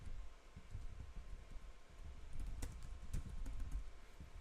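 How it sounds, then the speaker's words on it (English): Computer keyboard keys tapped right beneath a desk microphone, a faint, irregular stream of soft close clicks and thumps throughout, with no voice. "my mic right on top of my keyboard here, so it's probably picking up all my key taps"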